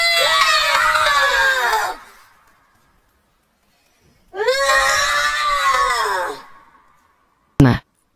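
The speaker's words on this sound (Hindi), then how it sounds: "कमरे में एक तेज चीख की बाज़गश्त सुनाई देती है।" A loud scream rings out twice in a room, each long cry trailing off into a short echo, with a brief sharp burst at the end; no one speaks.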